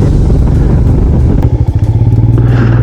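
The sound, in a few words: Royal Enfield Himalayan motorcycle riding on mountain road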